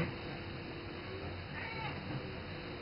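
Half-Persian kitten mewing softly indoors, a few faint, thin cries rising briefly over steady low room hum and background noise.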